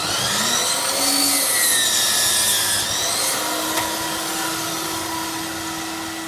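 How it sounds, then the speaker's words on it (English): A DeWalt mitre saw makes a compound cut through timber, a steady whining motor with a rasping, grinding bite into the wood, loud and close for several seconds without speech. "so we'll go 22. Be sure to move the guardrail back so it doesn't catch the saw."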